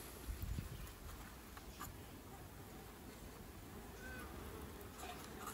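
Bees in a small nuc hive box give off a faint, low, continuous buzz, close by and quiet, with a brief louder bump near the start and light scattered rustles.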